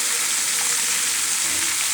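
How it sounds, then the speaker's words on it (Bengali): Meat frying in a pan with turmeric gives a loud, dense, unbroken sizzle that holds steady and close for the whole stretch, with no voices over it. "এখন মাংসটা ভেজে নেব। হলুদ হাফ চা চামচ,"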